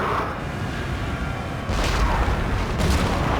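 Artillery barrage in the Napoleon: Total War strategy game, a dense rumbling roar of cannon fire that swells louder partway through, with sharp bursts near the end.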